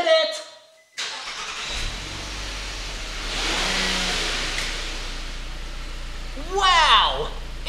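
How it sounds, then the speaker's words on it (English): A car engine starts inside a closed garage and revs up into a sustained, swelling roar. A loud exclamation from a person breaks in near the end. "Let's test it by starting this car in this closed garage."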